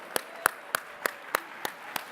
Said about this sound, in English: Now everybody, a loud round of applause for these folks.